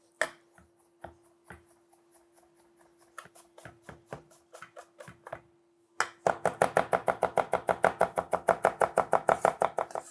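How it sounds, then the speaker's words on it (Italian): Knife chopping chervil, dill and tarragon on a board: sparse, irregular cuts at first, then a fast steady run of crisp rhythmic chops, close and clear with no talking. "il cerfoglio, l'aneto e il dragoncello andiamo a tritarlo semplicemente"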